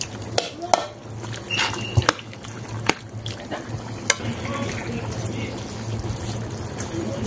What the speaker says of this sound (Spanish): Y le vamos a poner un buen vaso de vino blanco. Le damos caña, que vaya reduciendo.